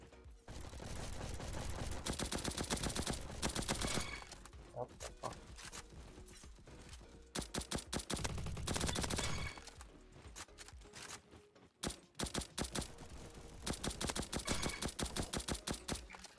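A gun fitted with a grip fires in the video game Bad Business: rapid, dense automatic bursts broken by brief pauses, loud and continuous across most of the stretch.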